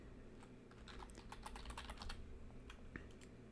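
Quiet keystrokes on a computer keyboard, a quick run of clustered taps followed by a few scattered presses, close and soft with no talking.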